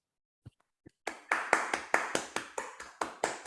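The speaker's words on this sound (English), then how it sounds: "So a round of applause for Team EquiCAD." Audience at a hackathon showcase claps for a winning team: a few isolated claps first, then a steady run of loud, sharp, evenly spaced claps, as if from a small group or a single clapper near the microphone.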